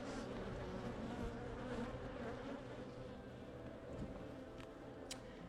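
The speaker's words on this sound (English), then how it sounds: "A lot of bees." A dense, steady buzz of many bees at an open hive during inspection, low and continuous, with the occasional insect droning past more closely.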